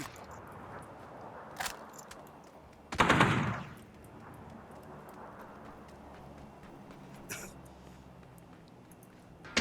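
Gunfire in the PUBG video game: one loud close burst of rapid shots, with a few fainter distant shots before and after, while players talk over it.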